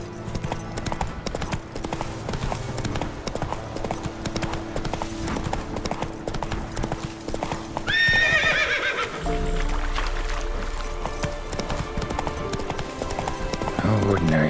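Roach, Geralt's horse in The Witcher 3, gallops with rapid rhythmic hoofbeats and then gives a loud whinny midway, while music and game sounds play alongside and a voice speaks briefly.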